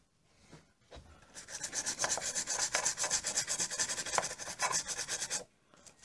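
A brush with thinner scrubs a freshly soldered component on a Chinese radio: close, rhythmic rasping strokes for about four seconds after a faint start, then quiet.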